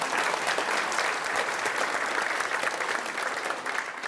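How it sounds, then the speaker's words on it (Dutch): An audience at a Zeeland event applauds the Dutch Minister of Climate and Energy, Rob Jetten. The clapping is dense and steady and continues without a break for the whole stretch. "En dan applaus."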